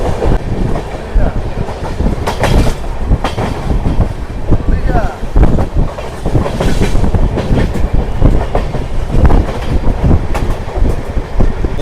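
Coromandel Express running on rails between Chennai and Shalimar, recorded from inside a general compartment: loud continuous rumble with rhythmic clickety-clack of wheels over joints, and occasional voices underneath.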